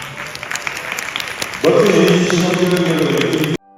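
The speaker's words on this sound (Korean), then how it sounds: "많은 관중들에게 박수를 받았습니다" Applause from an audience at an equestrian dressage exhibition breaks out partway through, a dense burst of clapping that continues steadily before cutting off abruptly.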